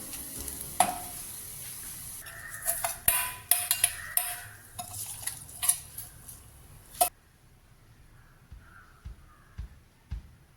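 Fried onion tempering is poured into a Palakkad Brahmin-style uppumanga ammanji curry of salted mango. Bursts of sizzling and clattering stir noise come up close for about seven seconds, then fade to near quiet with a few soft taps.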